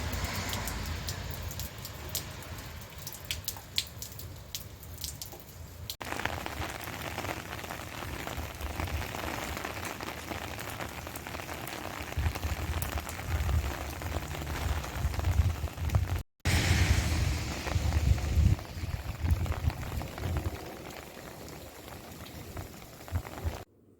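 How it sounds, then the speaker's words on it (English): Steady rain falls during a winter storm in metro Phoenix, Arizona, a dense continuous patter and hiss on outdoor surfaces that stays fairly loud throughout, with no talking. "Nothing fancy, just some steady rain."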